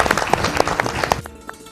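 An audience gives a short burst of scattered, moderately loud clapping for a guest on an addiction-recovery show, then it cuts off abruptly after about a second.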